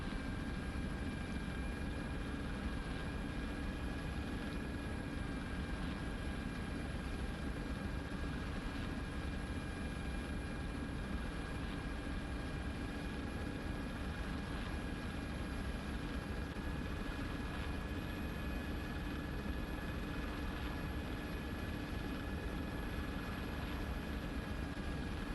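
A helicopter's engine and rotor in the video game ArmA 3 drone steadily for the whole stretch, a continuous even whine with no voices over it.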